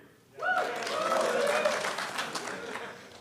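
Conference audience at a BSidesPDX security event claps and cheers in a vote on the venue, a burst of applause rising suddenly and holding steady for a few seconds alongside voices.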